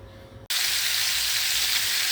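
A loud, steady sizzle of chicken frying in a hot pan starts abruptly after a brief quiet moment and continues without pause.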